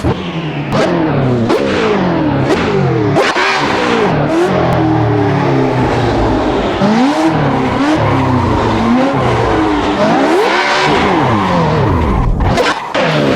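A car doing a donut at 10% turbo, its tires squealing steadily with the engine revving and wavering underneath, loud and close throughout.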